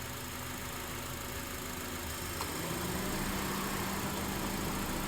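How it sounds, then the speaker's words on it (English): A car engine strains under load while the air conditioning compressor works against a plugged condenser, producing a steady, dense mechanical drone with a low whirring hum that holds throughout. "You can hear the engine struggling. It's going whir, whir, trying to compress that refrigerant."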